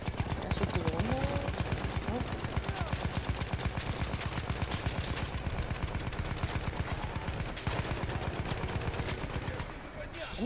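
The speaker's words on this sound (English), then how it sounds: "Dude, we're getting gunned down." Battlefield 1 online multiplayer gunfire: sustained rapid machine-gun bursts with dense overlapping shots fill the scene continuously, loud and close, with battle noise behind.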